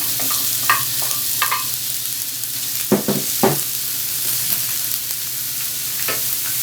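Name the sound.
onions frying in olive oil in pan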